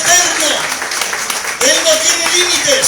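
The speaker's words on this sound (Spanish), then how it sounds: "¿Alguien le da un aplauso al Señor?" A church congregation applauds during a Spanish-language sermon, a loud, dense wash of clapping that runs throughout, with voices calling out over it.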